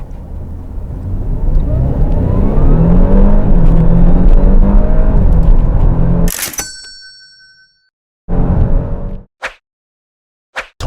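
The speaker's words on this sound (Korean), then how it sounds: "저 멀리서 들려오는 모터 회전음이 삥 하고 들리면서 정말 엔진음이 조용하게 나요" An Audi A7 55 TFSI quattro engine roars steadily at full throttle for several seconds, loud and close, then cuts off abruptly, followed by a few short mechanical bursts and clicks.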